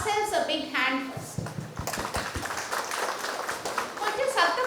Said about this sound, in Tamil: So let's give R cells a big hand first.